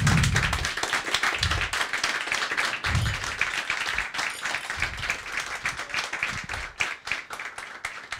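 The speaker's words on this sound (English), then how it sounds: "I think we have a round of applause, everyone." A room full of guests claps at the grand opening of the Brekeriet brewery, giving a sustained, crackling round of applause that stays fairly even throughout, with a few louder claps standing out.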